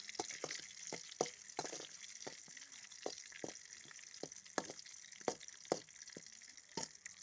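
Spices and curry leaves are tempered in hot oil: a soft, steady sizzle broken by frequent sharp pops and crackles at irregular intervals, close but fairly quiet, with no talking.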